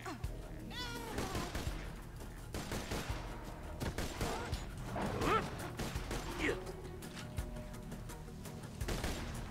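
Gunfire from a sniper rifle in the video game Borderlands 2 cracks in sharp separate bursts among other game effects, while players talk over the action.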